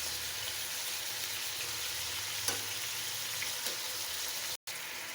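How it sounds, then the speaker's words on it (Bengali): Broiler chicken drumsticks and meat pieces fry in hot oil in a Bangladeshi-style home kitchen, giving a steady, close crackling sizzle that runs throughout, with a couple of faint clinks and a brief dropout near the end. "রান মিলিয়ে ভেজে নিচ্ছি।"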